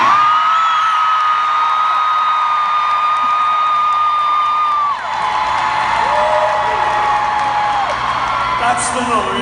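A live concert audience of girls gives a sustained high-pitched scream and whoop, loud and continuous with a brief dip midway, and a voice is heard over it.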